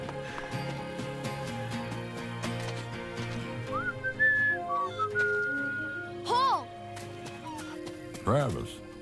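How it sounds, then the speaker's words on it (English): Someone whistles for an animal in an animated feature film, sending rising and falling whistled notes over music, with sharper swooping calls toward the end. "I heard your whistle."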